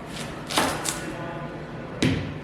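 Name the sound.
knife chopping an onion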